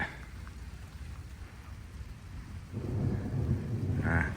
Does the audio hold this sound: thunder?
yes